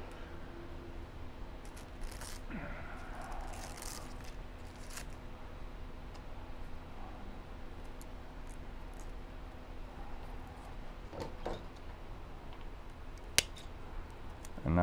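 Scissors trimming an overgrown Vanda orchid during repotting, with faint scattered snips and soft rustles over steady low room noise, no talking.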